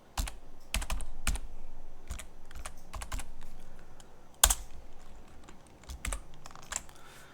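Keys clack on a computer keyboard as a Linux power-off command and password are typed, in irregular separate taps with a louder stroke partway through, close and alone.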